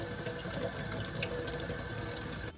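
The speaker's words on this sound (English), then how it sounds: "you'll want to put this in some running water" A kitchen tap runs steadily as a wooden skewer is rinsed under it before being rolled in sugar for rock candy, a continuous close hiss and splatter with no talking.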